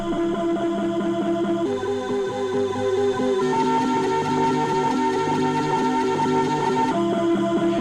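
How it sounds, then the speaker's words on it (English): Auto-tuned breakbeat pushed through a distortion preset, giving a gritty, saturated, continuous drum loop with pitched harmonic tones over punchy hits, loud and steady with sections changing every couple of seconds, no voices. "Thermal is just like distortion and like some effects and such."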